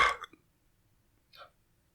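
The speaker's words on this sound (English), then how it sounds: "It was like a textbook burp." A single short burp sounds up close at the start, followed by a brief fainter vocal sound a second later, otherwise quiet.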